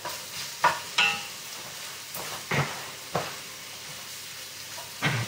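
Carrots stir-fry in a pan for a lamb sauté, a steady soft sizzle punctuated by several sharp scraping stirs of the utensil at irregular intervals, close and fairly quiet with no talking.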